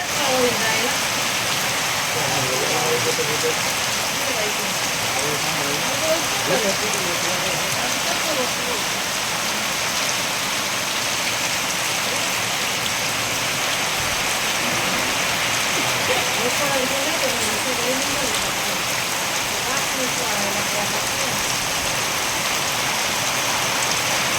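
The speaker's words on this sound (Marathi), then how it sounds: "तराना या ठिकाणी मुक्कामी असताना जोरदार पाऊस" Heavy rain pours down continuously at Tarana during a Narmada parikrama, a dense, steady hiss of drops on surfaces that stays even and close throughout.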